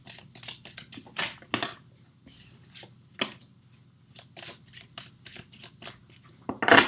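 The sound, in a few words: oracle cards being handled and laid out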